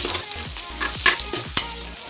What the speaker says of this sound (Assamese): এতিয়া ইয়াত পিঁয়াজ দিছে এতিয়া মই হাতাখন ধৰি অকণমান লৰাই দিছোঁ